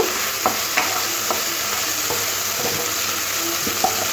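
Prawns coated in salt and turmeric fry lightly in hot oil with a dense, steady sizzle up close, dotted with small spatula clicks and stirring knocks throughout.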